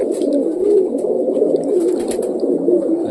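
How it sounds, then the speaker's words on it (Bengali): Several pigeons coo close by in a low, rolling, overlapping murmur that runs continuously, loud and near, with no talk. "সব কবুতর ছেড়ে দিয়েছি"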